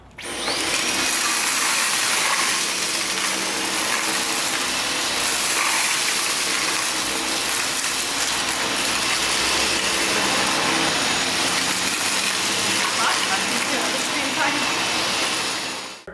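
A Dyson V11 Torque cordless vacuum runs steadily while cleaning a floor during a test, a loud continuous motor whine and airflow roar holding level for the whole stretch with no talk over it.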